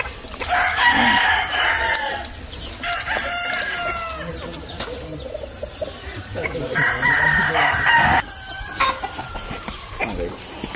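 F1 breeder chickens from Buddy Rowell bloodline: a rooster crows nearby while hens cluck around it, with repeated crowing calls and scattered clucks over a steady background hiss.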